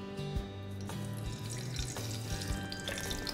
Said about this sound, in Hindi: नाउ एक पैन लेंगे, उसे गर्म करेंगे. उसमें जाएगा थोड़ा सा देसी घी